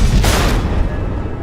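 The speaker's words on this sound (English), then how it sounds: "The missiles." Missiles explode in the Batman: The Enemy Within video game: a loud, close broadband blast that rolls into a dense, rumbling roar and decays over about a second.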